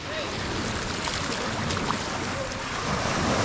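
Sea waves at high tide wash onto the beach at Praia dos Carneiros in Tamandaré, Pernambuco, a steady broad rushing surf with wind buffeting the microphone.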